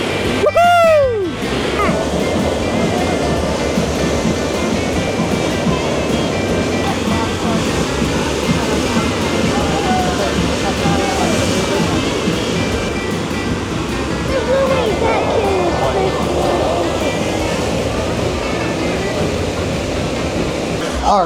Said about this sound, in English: the heavens have unleashed. It is pouring out there